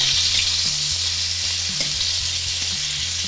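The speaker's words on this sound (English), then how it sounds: "So we're just gonna brown it up here." Chicken pieces for lemon chicken fry and brown in a hot pan, giving a steady, loud broadband sizzle throughout with a few faint clinks and scrapes underneath.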